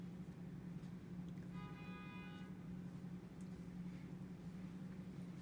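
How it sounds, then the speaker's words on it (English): City traffic outside in New York City, a constant low rumble of passing cars heard faint and distant, with a short tonal beep partway through. "We're in New York City, so we can hear the cars."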